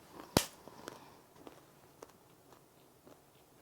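A loud crisp bite of a traditional Korean confection with whole nuts inside, followed by soft, irregular crunchy chewing, close up and quiet.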